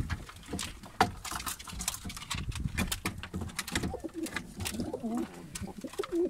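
Racing pigeons in a loft coo continuously and close by, in overlapping low throaty calls, with occasional wing flutters and patter throughout.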